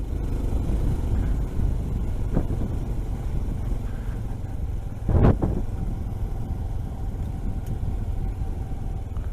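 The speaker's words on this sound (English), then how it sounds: "Changing gear uphill, eh?" A Honda CT125 Hunter Cub motorcycle riding uphill on a rural road, steady engine drone under wind with a couple of sharp clunks and a brief surge as it shifts gear, no talking.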